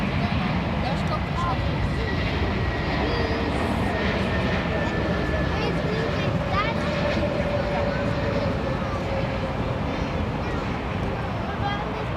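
A Lufthansa airliner arriving from Nice roars steadily at Frankfurt Airport, a broad continuous engine rumble and whine heard from a spotters' platform, with faint voices in the background.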